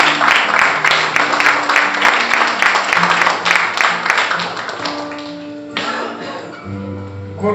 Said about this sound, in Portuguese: Você pode aplaudir mais uma vez esse Deus?